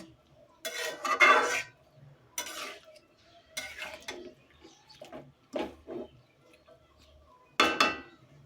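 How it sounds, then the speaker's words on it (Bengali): Chicken curry with potatoes cooks in a pot, with a metal spoon scraping and clanking against the pot in irregular bursts of several loud strokes separated by quiet pauses. "মাংসটা কষানো হয়ে গেছে আমি আলুটা এখন দিয়ে দিলাম আর একটু কষাবে"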